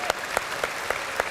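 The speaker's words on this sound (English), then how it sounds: "Give Mummy a round of applause" Applause from a conference audience in Birmingham, a soft steady patter of clapping with a few sharper claps spaced evenly through the short stretch.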